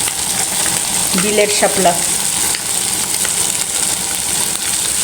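Fish sizzle and spit as they fry in a pan, a steady, close crackling hiss with stirring sounds. Someone briefly speaks over the frying partway through.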